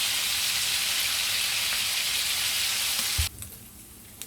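Bacon sizzles and fries steadily in a pan, a loud dense crackle that runs continuously, then cuts off sharply after a light clunk near the end, leaving faint scattered pops.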